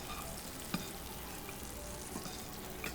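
Sous-vide-cooked endive finishing in a pan with butter gives a steady, busy sizzle and frying crackle throughout, with a couple of brief clinks of utensil against pan and no talk.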